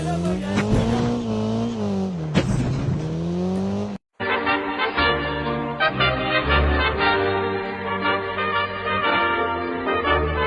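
A car driven in the mobile shooter game Call of Duty Mobile, its engine revving loudly with rising and falling pitch, then cutting out for a moment before a dense, busy game mix returns with a steady engine drone.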